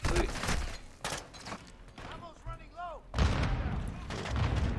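Grenade explosions and gunfire in the video game Call of Duty MW2 come as loud, rough blasts and crackling bursts, with a brief whistling sweep in the middle, mixed with game noise.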